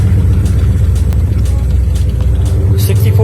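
A classic 1964 Ford Galaxie's engine runs steadily at idle with a deep, continuous low rumble, close and loud throughout, with a slight rise in revs near the end.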